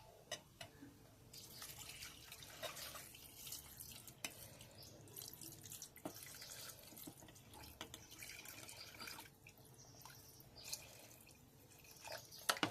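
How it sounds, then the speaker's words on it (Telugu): Water is poured into a pot of goat head curry as a faint, steady splashing trickle with scattered drips and small clinks throughout, fairly quiet and without speech. "తర్వాత వాటర్ వేసుకోవాలి."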